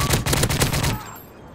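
A rapid burst of automatic rifle fire from an ACR in a Call of Duty match rattles loudly and close for about a second, then cuts off into a brief fading tail.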